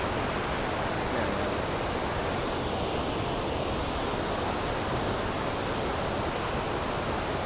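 Steady, dense roar of rushing water at the Li Phi waterfall in Laos, constant and broadband with no breaks, like standing near a large waterfall.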